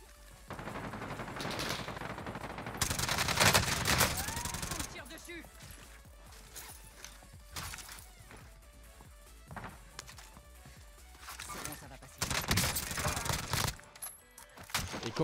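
Gunfire in a first-person shooter video game, with rapid automatic bursts and single shots crackling at varying distances in several clusters, heard under occasional speech.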